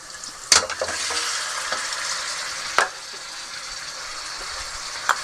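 Constant hissing sizzle of half a kilo of meat frying in a pot with garlic-ginger paste for Kashmiri hareesa, broken by a few sharp clinks of a utensil stirring.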